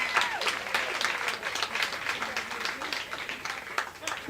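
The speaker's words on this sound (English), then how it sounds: "Clap it out for that poet." A poetry slam audience applauds a poet with steady, dense clapping and scattered cheers filling the room throughout, with a few louder bursts standing out.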